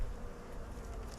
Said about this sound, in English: We actually have some bees.